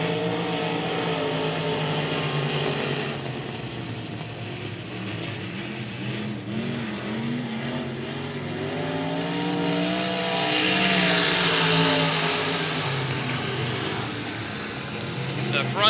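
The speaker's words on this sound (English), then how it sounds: "The front two cars starting to stretch their legs away from Greg Miller." Race cars on a Texas track during a B Main and last-chance qualifier race, a continuous roar of engines that swells and fades as the cars pass, under a commentator's talk.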